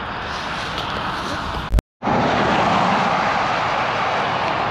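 A BMW 850 adventure motorcycle riding in on a cold day, heard as a steady, loud broadband engine and wind roar that cuts out briefly, then returns and holds steady, with no talk.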